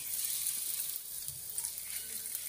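Mutton seekh kebabs fry in hot mustard oil, giving off a constant, even hiss of bubbling oil at moderate volume with no pauses.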